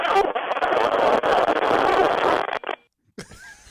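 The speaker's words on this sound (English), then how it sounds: "Oh, here we go. Fart." A long, buzzy fart sounds over a telephone line for a couple of seconds, then cuts off, followed briefly by a voice.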